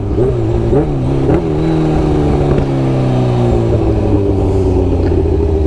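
A Kawasaki Ninja H2 motorcycle accelerates hard in a launch-control start, its engine note rising and falling through quick gear changes, loud, close and continuous for several seconds with no talk.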